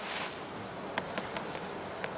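Honey bees at a heather skep apiary in spring hum in a continuous close buzz, with a few brief sharper passes of individual bees standing out, and no one speaking.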